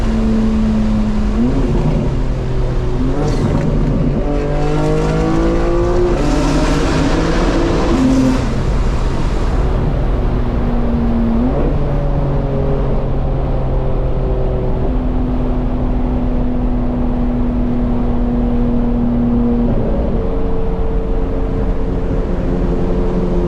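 Fully modified 2025 BMW M4 Competition on an early morning drive through Atlanta, its engine loud and close, climbing through gears with rising pitch and shifts, then settling into a steady cruising drone.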